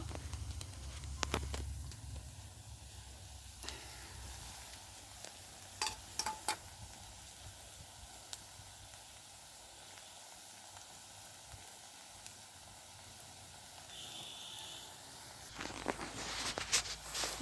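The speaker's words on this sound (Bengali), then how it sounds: "এই দেখো কি সুন্দর লাল লাল করে ভেজে নেব" Food shallow-frying in oil until reddish, a faint steady sizzle with occasional sharp pops and utensil clicks, no talk.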